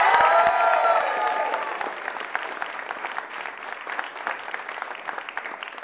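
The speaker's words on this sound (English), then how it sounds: "please, one more round of applause." A concert audience applauds steadily for several seconds after a summer event show, with a dense wash of claps that starts loud and slowly thins without fully fading.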